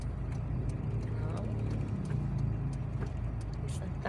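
Heavy road traffic surrounds the listener, with a dense, continuous rumble of cars and engines close by and people talking over it.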